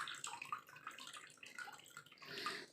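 Water drains from a batch of fermented raw rice husks being prepared as a planting medium, a close, fairly quiet trickling and splashing that keeps flowing.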